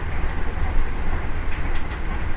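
Tegal Bahari / Gumarang New Generation passenger train running on rails: a steady, loud rumble with faint clickety-clack throughout, heard from inside the car.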